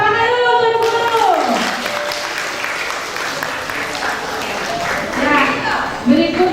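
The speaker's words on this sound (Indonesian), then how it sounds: "Tepuk tangan dulu untuk Ibu Guru." Clapping from a crowd at a kindergarten graduation ceremony, a sustained wash of hands applauding in a hall, with a voice over a loudspeaker talking at the start and again near the end.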